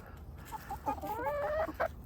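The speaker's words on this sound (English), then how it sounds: "All these silky chickens are friendly." Silkie chickens cluck and murmur close by, a run of soft rising and falling clucks building to a short burst near the end.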